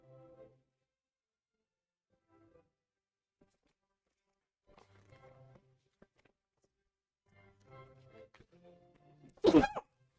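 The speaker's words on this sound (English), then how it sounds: "I just had to sneeze." A single sharp, loud sneeze bursts out near the end of a quiet indoor board game session, after faint soft murmurs and small movements.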